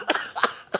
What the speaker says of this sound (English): Oh, and then cough.